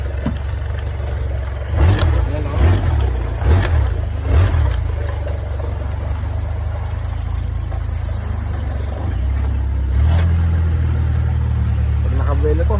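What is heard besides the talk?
boat in Thailand with a car engine (Toyota Fortuner engine) running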